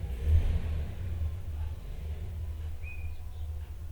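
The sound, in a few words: car engine running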